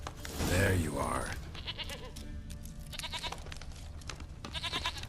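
A goat in The Witcher 3: Wild Hunt gives a loud, wavering bleat up close at the start, followed by quieter game ambience and a few fainter clicks and rustles.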